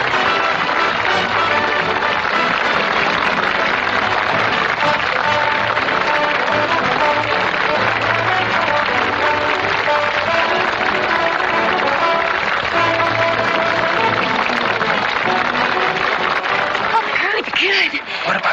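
An audience applauds at a theatre performance, a long, dense wash of clapping that runs steadily for most of the stretch, with some voices mixed in and a brief shift near the end.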